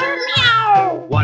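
A cat meows from a 1953 counting record, two close, loud, drawn-out meows, the first long and sliding downward, the second short, with no talk over them.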